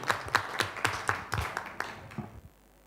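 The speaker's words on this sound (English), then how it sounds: "Thank you very much, and a big applause." Audience at a WHO TDR meeting clapping: a scattered run of fairly sparse claps that thins out and stops after about two and a half seconds, with no talking.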